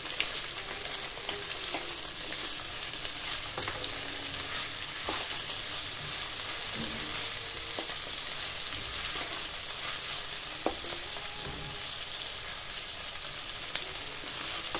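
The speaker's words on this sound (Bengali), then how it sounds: "একটু ভাজা ভাজা করে নেব।" Onion, green chilli and peas crackling and hissing in a hot wok, with a constant bright sizzle and irregular scraping ticks of a spatula stirring, close and uninterrupted, no voices.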